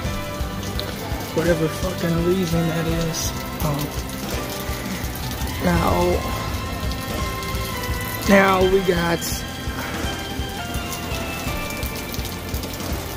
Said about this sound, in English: It's raining and all, but not hard or windy either.